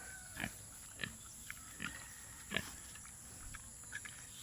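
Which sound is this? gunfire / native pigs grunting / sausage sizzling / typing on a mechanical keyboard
native pigs grunting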